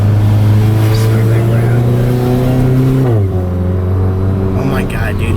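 A car with a DSG gearbox revs loudly in a steady held drone, then the pitch drops sharply as it downshifts, settling into a lower rumble, close and continuous throughout.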